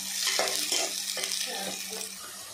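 Onions frying in hot oil in a pan while being stirred, a close, steady hissing sizzle broken by soft scraping strokes, with a low hum underneath.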